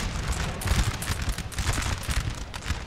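Musket volleys from light infantry ring out in Napoleon: Total War, a dense, continuous crackle of many overlapping shots rolling across the field over a low battle rumble, loud and close with no speech.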